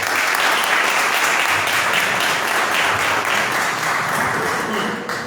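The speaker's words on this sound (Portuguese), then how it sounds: "Eu quero que você dê o melhor aplauso para receber o obreiro do Paulo." A church congregation gives a loud, sustained round of applause, dense clapping filling the room evenly before it eases slightly at the very end.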